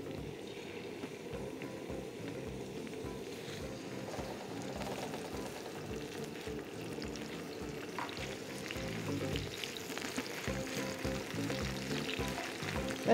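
Onions fry on a hot tawa with a steady, soft sizzle and crackle, occasionally stirred, quiet and continuous with no talking.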